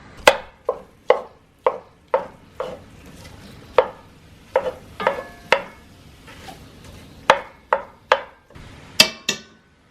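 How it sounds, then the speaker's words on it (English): A knife chops poblano peppers on a cutting board in a home kitchen, about twenty sharp, close taps in uneven bursts with brief pauses between runs. "Creed gets ready to chop the poblanos"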